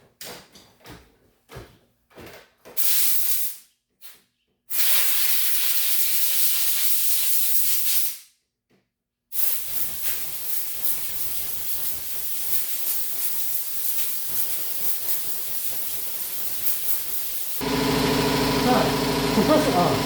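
Air compressor nozzle blowing dust out of a part on a Craftsman riding mower in a garage, short sharp hissing bursts followed by a long steady blast, then a continuous rumbling compressor run with brief gaps.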